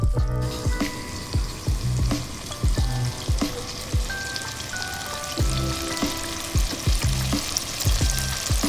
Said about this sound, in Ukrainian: Котлети почали вже шкварчати